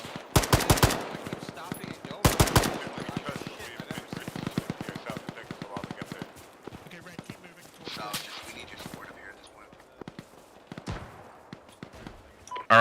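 Arma game combat has bursts of automatic rifle and machine-gun fire, rapid sharp cracks in dense clusters early on, then scattered single shots and shorter bursts, loud and close, over a noisy battlefield.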